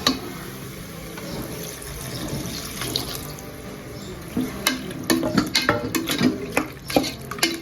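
Water is poured from a tap or vessel into a pot of country chicken cooking with masala, a steady close splashing that grows into bubbling and clinking near the end, with no talk.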